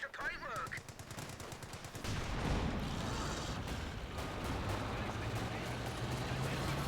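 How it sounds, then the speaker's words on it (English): Bursts of gunfire and heavy artillery rounds landing in a Company of Heroes 2 battle, rapid machine-gun rattle giving way to sustained loud explosions and rumbling fire, with a voice talking over it. "I'm not entirely certain how those 20-pounder rounds are coming in."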